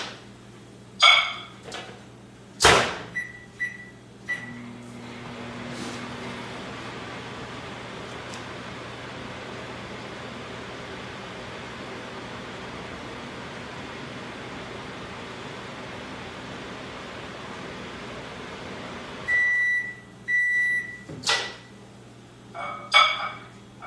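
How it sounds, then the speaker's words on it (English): A microwave oven melts garlic spread for homemade pizza: button beeps and clatter at the start, a steady low hum for about fifteen seconds, then more beeps and handling sounds. "I'm gonna drop it in the microwave for just a second."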